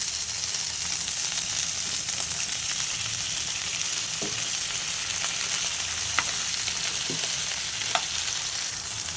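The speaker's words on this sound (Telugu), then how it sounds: "ఈ వంకాయలని కూడా ఆయిల్లో మగ్గించుకోవాలండి." Cut eggplants frying in oil in a pan, a dense, even sizzle that holds for the full length, with occasional faint clicks of a spatula and no talking.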